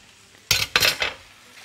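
Onions stirred in a pan on a home stove, with three quick, close scraping and clattering bursts of a utensil against the pan and only a faint sizzle underneath.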